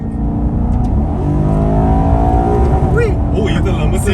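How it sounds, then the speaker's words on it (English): A loud Maserati Quattroporte GTS engine revs up and holds a rising, throaty roar close by, with a voice speaking over it. "that's one of the best sounding cars I've ever heard."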